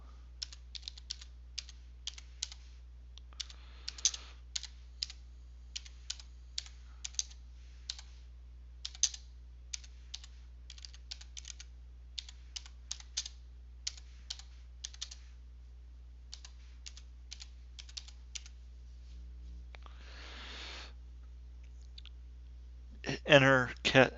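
Someone types a blog title on a computer keyboard, with quick irregular bursts of light key clicks close by over a low hum, finishing with a few heavier clatters.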